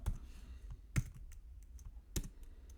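Rapid clicks of a computer keyboard as CSS code is typed, with a few louder keystrokes standing out, close and alone without talk.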